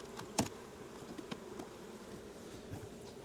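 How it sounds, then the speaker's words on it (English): Honey bees from a newly installed package buzz faintly around the hive entrance, a low steady hum with a few brief, louder passes as individual bees fly close. "Now I'm never going to be able to get all the bees out"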